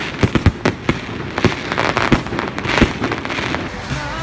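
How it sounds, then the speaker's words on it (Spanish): A fireworks display over the Manterola footbridge in Murcia crackles and booms in loud, irregular bursts, with rapid pops layered over a dense, rumbling wash of explosions. "Un espectáculo de fuegos artificiales precedió al estreno de la nueva iluminación de la pasarela Manterola."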